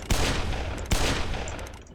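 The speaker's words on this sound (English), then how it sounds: "We also have exploding bullets as well." Two loud, sharp explosive gunshot blasts from exploding bullets in a Roblox open-world building and PvP game, the second following about a second after the first, each with a long crackling decay.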